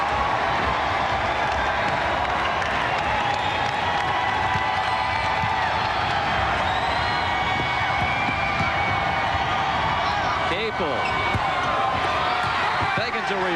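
Steady roar of a large basketball arena crowd at NC State during a 1994 game against Duke, dense and continuous throughout, with a play-by-play announcer talking over the noise.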